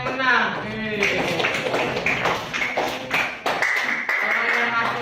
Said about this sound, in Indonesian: Oke, tepuk tangan dong buat yang menang.